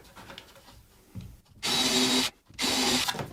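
A power drill drives screws into a wooden peanut jig in two loud, sustained bursts of whirring, each lasting over half a second, after a few light handling knocks.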